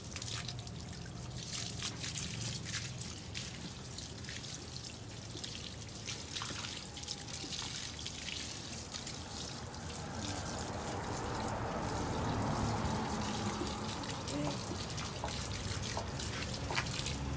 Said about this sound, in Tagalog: Before i-cut natin, ay hugasan muna niya.